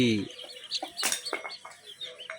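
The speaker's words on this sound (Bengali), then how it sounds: "এই তোমার মুরগি।" A chicken clucks in short, uneven bursts close by, with a few soft background noises between calls.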